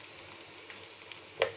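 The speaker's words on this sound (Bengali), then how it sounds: "কারি কুকার অন করে দিয়েছি পেঁয়াজ অলমোস্ট ভাজা হয়ে গিয়েছে" Onions frying in a curry cooker while chicken tehari is being made, a soft steady sizzle heard close up, with a couple of brief louder crackles near the end.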